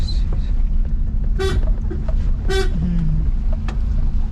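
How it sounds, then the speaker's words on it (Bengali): Car horn honked twice in short toots during a driving lesson, loud inside the car over a steady engine rumble. "দিন ভালো করে হর্ন দিন"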